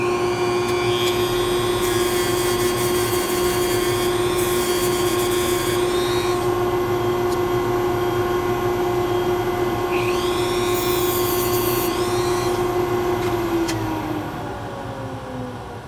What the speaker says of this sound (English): Now I'm going to use my Dremel. I'm going to rough sand it first and then take a flap sander to it.